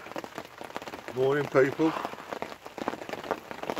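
Heavy rain pours down in a dense, steady patter on outdoor surfaces, close and continuous, while someone speaks briefly over it.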